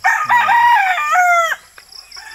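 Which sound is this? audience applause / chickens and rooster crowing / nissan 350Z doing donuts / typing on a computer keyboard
chickens and rooster crowing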